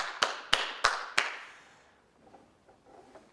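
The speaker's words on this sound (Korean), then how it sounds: "우리 하나님께 영광의 박수 올리겠습니다" A congregation at a Sunday worship service claps in praise: four loud, evenly spaced claps ring out in a reverberant sanctuary, then decay into a faint, low murmur.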